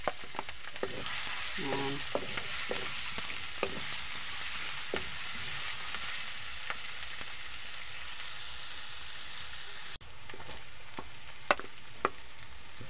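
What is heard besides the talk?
cooking oil sizzling in a pan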